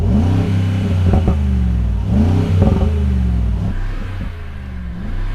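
A Rolls-Royce Cullinan engine revs repeatedly, three or four deep rising and falling blips close by, smooth and loud with a steady idle between them and no talk.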